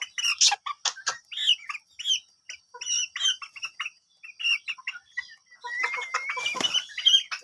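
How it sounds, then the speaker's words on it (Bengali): A black rooster on a farm clucks in quick, loud, close bursts with short pauses, and other chickens chirp nearby. "এটা একটা মোরগ।"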